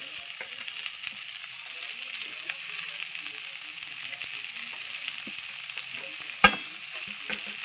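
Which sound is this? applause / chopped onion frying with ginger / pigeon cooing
chopped onion frying with ginger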